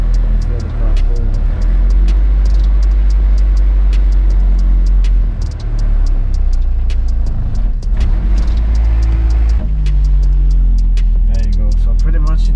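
An Acura Integra third-generation car engine drones loud and steady at low pitch while the clutch engages in gear. The rumble holds constant with a brief dip midway, and someone talks over it.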